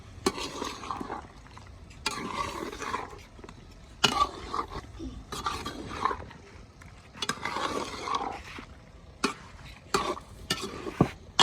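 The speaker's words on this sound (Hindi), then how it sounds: "अच्छे तरीके से इसे मैंने एक बार मिक्स कर लिया है।" Broiler chicken being stirred in a pot without oil, heard as bursts of scraping and shuffling from a spoon against the pot, with soft sizzling between the strokes.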